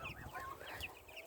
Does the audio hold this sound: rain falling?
no